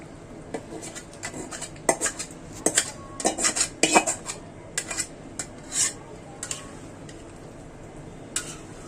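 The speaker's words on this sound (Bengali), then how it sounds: "এই হচ্ছে ডাল, ডালটি এখন আমি দিয়ে দিব।" Mung dal is tipped into a metal cooking pot. Scattered, fairly close clinks and rattles of grains and a utensil against the pot come in irregular bursts, with no talking.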